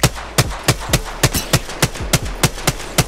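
Sharp gunshots from Apex Legends, about a dozen loud single shots fired at a steady, fairly quick rhythm, each a close crisp crack with a short low thump, and no talking.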